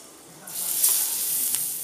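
Falafel burger patties hiss and sizzle in hot oil, close and steady, growing louder as they go into the pan.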